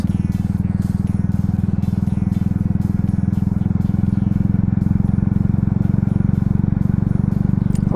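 A motorcycle rides along a road on the way into Goa: a loud, steady engine drone held close throughout, with constant wind buffeting and light rattling over the engine.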